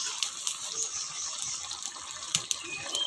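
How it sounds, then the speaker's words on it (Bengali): Water poured into a cooking pot on a wood-fired stove, a steady hissing splash with a few brief surges, close and fairly loud, with no talk over it. "এবার জল দিয়ে দেবো"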